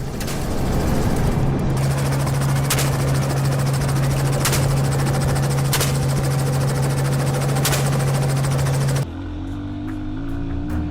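Loud helicopter rotor thudding with a steady droning hum, punctuated by several sharp gunshots from hunters shooting wild boar from the helicopter, ending abruptly in quieter engine noise.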